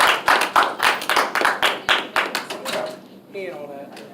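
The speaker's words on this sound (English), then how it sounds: "Clap him up." A classroom crowd clapping for a student who won an award, a quick run of sharp, rhythmic claps close by that fade out, followed by a brief cheering voice.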